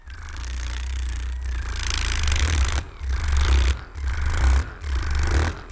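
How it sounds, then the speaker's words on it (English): Massage gun pounding a raw steak, a loud rapid percussive buzzing in several bursts separated by short pauses, a deep motor thrum beneath the slapping, with no one talking. "it is a great massage gun, but let's see if it actually does what it's supposed to do."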